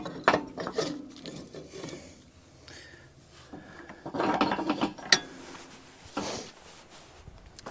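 Ratchet wrench cranking to loosen the screw on a trailer hitch slip sleeve, uneven bursts of clicking and metallic scraping with pauses between strokes, close up.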